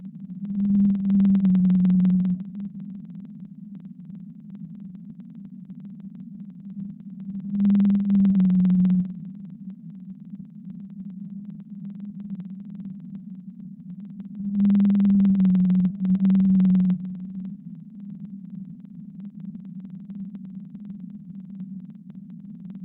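Blue whale A call, a low pulsed tone that repeats three times with long gaps, each burst carrying a brief buzzy upper band over a steady low hum, with no voices.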